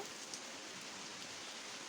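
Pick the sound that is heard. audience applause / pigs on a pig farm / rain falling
rain falling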